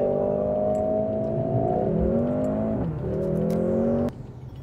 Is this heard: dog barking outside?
no